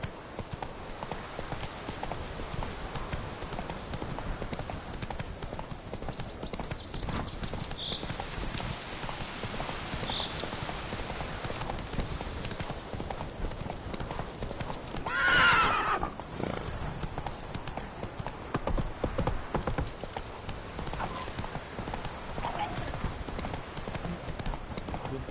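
Horse hooves clip-clopping steadily through the whole stretch in The Witcher 3, with a whinny rising briefly near the middle over a busy game soundscape.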